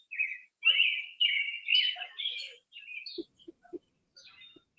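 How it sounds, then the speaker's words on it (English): Birds chirp in the background outdoors, a run of bright high tweets and trills in quick succession, fairly clear, followed by softer scattered calls and a few low knocks. "Oh, you can hear the birds in my background."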